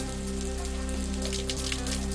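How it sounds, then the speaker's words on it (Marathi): Heavy rain pours steadily in Chhatrapati Sambhajinagar, a dense, continuous hiss of drops striking surfaces at close range, with no voices. "छत्रपती संभाजीनगरमध्ये जोरदार पावसाची हजेरी"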